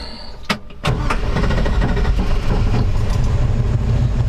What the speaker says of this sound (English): We're gonna go ahead and fire it up here.